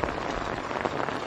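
Steady dense rain pattering on an open hillside during a camping trip, grass turning to frost, a continuous close hiss with no voices.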